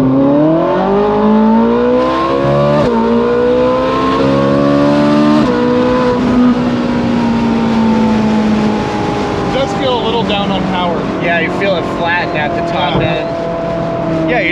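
Ferrari 458 engine revving loudly up and down through gears while driving, with steady harmonic engine tones rising and falling throughout and faint higher chirps near the end.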